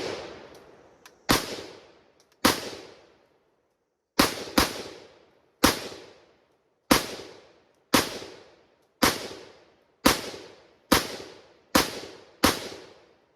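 Repeated gunshots from a Renegade Firearms RFar5 carbine with a 16-inch barrel and carbine-length gas system, about a dozen sharp loud cracks fired at a steady deliberate pace, each trailing into a brief decaying echo.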